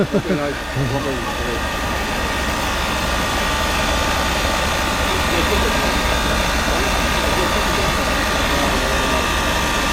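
A diesel multiple unit on the West Somerset Railway runs with a loud, steady engine drone and mechanical hum, heard from inside the cab, continuous throughout with a slight rise at the start.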